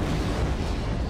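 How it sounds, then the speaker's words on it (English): A huge cosmic explosion sound effect, heard as a dense, roaring wall of deep rumble and hiss. It is loud and constant through its brief length, with no voices. "A NASA satellite captures a huge cosmic explosion."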